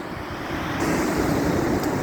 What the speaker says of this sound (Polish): podejdę bliżej brzegu, to zobaczycie jak fajnie te fale wyglądają